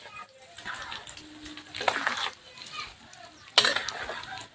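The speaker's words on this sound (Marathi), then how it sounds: "आणि आता परत छान असं मिक्स करून घ्यायचं आहे" Mango pickle masala is mixed by hand or spoon in a vessel, giving soft irregular scraping and rustling with a couple of louder clattering strokes, close and fairly quiet, with faint voices in the background.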